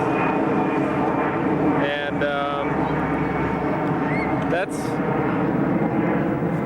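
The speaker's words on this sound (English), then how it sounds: "There's a plane taking off." An airplane taking off near Seattle, a broad steady engine roar that holds loud throughout and sits under brief conversation from people standing nearby.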